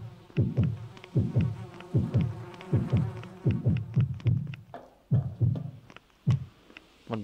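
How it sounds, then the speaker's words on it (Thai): A fly buzzes in the horror game Yomawari: Midnight Shadows in a steady run of short, throbbing pulses about twice a second, close and fairly loud, with a faint high tone held underneath and no talking. "แมลงนี่มันคือแมลงวันชัดๆ"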